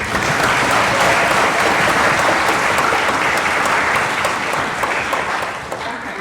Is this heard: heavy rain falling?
no